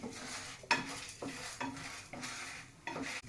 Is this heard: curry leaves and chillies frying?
yes